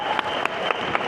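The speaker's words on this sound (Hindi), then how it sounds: "जोरदार तालियां" Audience applause at a crowded conference event in Delhi, a dense, steady wash of clapping throughout with a few sharper individual claps standing out, fairly loud and without talk.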